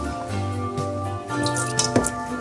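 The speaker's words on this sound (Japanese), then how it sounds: "水切りをします。" Water being drained off boiled frozen sweet potatoes in a home kitchen, with close dripping, splashing and squishy liquid sounds trickling continuously and a few louder drips near the end.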